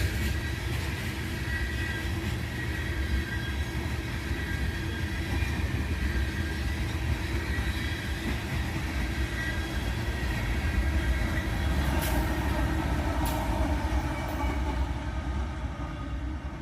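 KCS, CP and CSX freight trains pass each other, a loud, continuous rolling rumble of rail cars that holds steady from start to finish with no voices.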